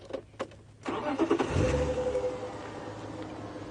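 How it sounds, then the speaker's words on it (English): Safari vehicle engine starting with a few clicks and a cranking catch, then rising into a steady, moderately loud idle and low rumble as the vehicle begins to move slightly. "I'm just going to move the vehicle slightly."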